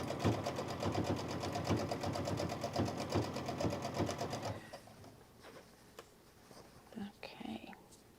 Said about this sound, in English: we're going to just stitch down here